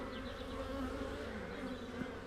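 Honey bees swarm in an opened hive around their queen, a steady close-up buzzing drone with overlapping wingbeat hums that rise and fall slightly, with no voices.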